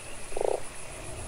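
A frog in the video game Fran Bow gives one short, buzzy croak in the middle, moderately loud over a faint steady background hum, with no speech.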